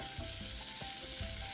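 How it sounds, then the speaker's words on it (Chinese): Pork tenderloin, pig brain and lung hiss as they are stir-fried quickly in a hot wok. A brief, faint sizzle with light scraping taps from the stirring. "里脊肉充分抓匀后，下锅快速翻炒"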